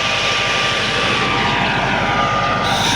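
A 2010 Massey Ferguson 375 tractor pulling a 54-blade rotavator through a field gives a loud, continuous engine drone with a steady churning roar that holds unbroken throughout.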